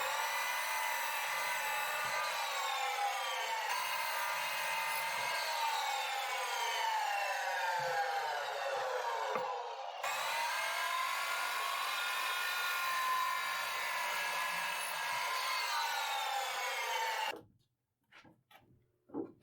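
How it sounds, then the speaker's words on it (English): A chop saw cuts wooden legs for a workbench, its motor giving a loud, steady high-pitched whine that dips briefly mid-cut, then runs on before spinning down and stopping, leaving a few quiet knocks. "it's over to the chop saw to cut the legs"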